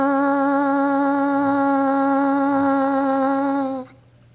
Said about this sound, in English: Start your buzz with the syllable ta and buzz through the center of your lips